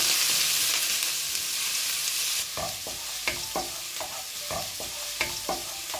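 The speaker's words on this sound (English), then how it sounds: "You need to keep cooking the garlic and the ginger until it turns light brown" Garlic and ginger frying in a pan, a bright sizzle that settles into a softer hiss broken by a series of spatula scrapes and stirring taps.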